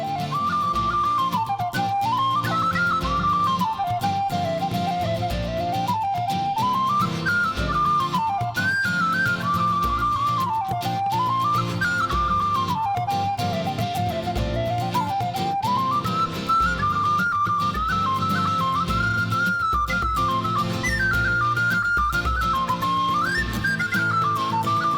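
A solo whistle melody, a tune from an album, played by a Lear Whistle musician, carries a lively, continuous rising and falling line over steady backing accompaniment.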